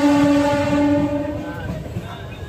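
A train sounds its long horn at Howrah station, loud and near for about a second. Rumbling rail and platform noise carry on underneath after it.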